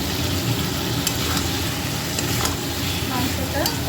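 Mutton sautéed kosha-style in a pan, producing a loud, dense, unbroken sizzle with occasional spatula scrapes and light clinks up close.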